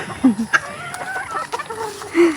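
Roosters and a hen cluck and squawk in short, close calls while being fed, a few sharp notes scattered over a quiet farmyard background.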